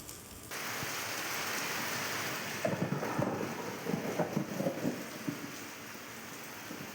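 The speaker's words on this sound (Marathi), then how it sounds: "वादळी वाऱ्यासह जोरदार अवकाळी पाऊस जो आहे तो बरसलाय।" Heavy unseasonal rain driven by stormy wind in the Barshi and Pangaon area of Solapur, a dense continuous roar of rain with gusting wind rumble buffeting the microphone and pattering bursts on surfaces.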